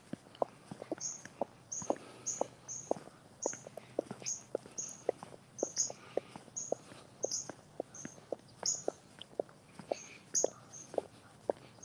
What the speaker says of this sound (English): Can hear the birds and the chipmunks. Making noises, little chirps.